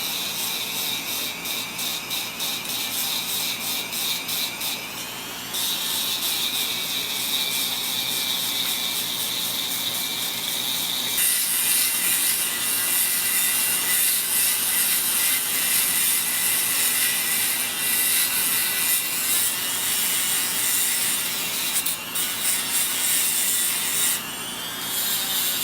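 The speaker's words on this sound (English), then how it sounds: "This is the soft fiber brush, the Dremel tool. We're going to use that just to clean the engraving and the knurling off of the knob." A Dremel tool fitted with a soft fiber brush cleans the engraving and knurling on a radio knob from a 1920s battery radio, giving a continuous high whirring scrub with slight shifts in pitch and no speech.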